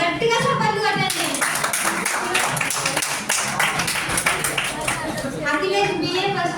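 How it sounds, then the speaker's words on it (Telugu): An audience of students at a Telugu language day celebration in a government degree college hall claps hard and continuously for several seconds, a dense crackling roar of applause with voices mixed in. "చేతులున్న ప్రతి ఒక్క గట్టిగా చప్పట్లు కొట్టండి"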